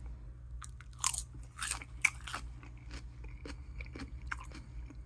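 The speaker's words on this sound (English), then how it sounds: "you'll hear the crunch of it, the flour, the texture and everything" Crisp, crunchy bites into snail vine flowers, several sharp crunches followed by close, wet chewing over a low steady hum, with no talking.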